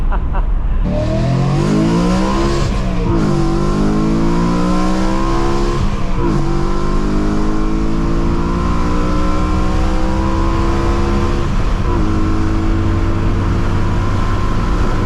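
A BMW E92 M3 with its 4.0L V8 revs hard, recorded from outside: loud, close exhaust with rising and falling engine pitch sweeps, repeated pulls and downshifts, and a steady roar filling the whole stretch.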